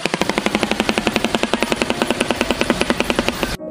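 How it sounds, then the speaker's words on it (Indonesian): A shoebill stork clatters its bill: a rapid, steady machine-gun-like clatter of hollow knocks runs for several seconds, loud and close, then cuts off abruptly. "suara ini berasal dari seekor burung, Sobil Stork, burung purba yang masih hidup sampai sekarang."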